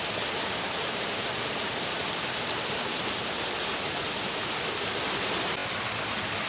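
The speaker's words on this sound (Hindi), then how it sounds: "तो इसके नीचे है एक झरना" A waterfall below a stream near a mountain village in Uttarakhand gives a steady, loud rushing roar that fills the whole stretch without a break, with no voices over it.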